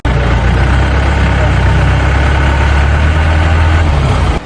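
A jeep engine drones loud and close throughout a ride near Honnavara, giving a steady low rumble with heavy wind and road noise and no letup.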